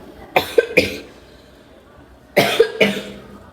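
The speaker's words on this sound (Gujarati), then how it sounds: "થોડીક ઉધરસ થઈ ગઈ છે." Two short bursts of coughing, each a pair of quick coughs, close and fairly loud, separated by a quiet pause.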